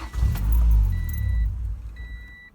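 A car engine running on its fuel pump kill switch stumbles and dies within a couple of seconds, its low rumble fading out, while a faint high whine lingers and a jangle of keys sounds near the start.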